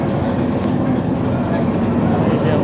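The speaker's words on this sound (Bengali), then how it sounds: "নারায়ণগঞ্জ কমিউটারের লোকো এটা দেওয়া আছে, 2300 সিরিজের লোকো" A Narayanganj commuter train with a 2300 series locomotive rumbles steadily at the station, a loud continuous rail drone with some crowd noise mixed in.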